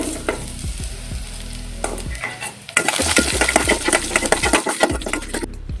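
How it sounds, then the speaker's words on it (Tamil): Mango seed kernel pieces sautéing in a pan for a thuvaiyal, with steady frying sizzle and repeated scraping stirs of a utensil against the pan, growing louder and busier in the second half. "இதையும் சேர்த்து வதக்க வேண்டியது தான்"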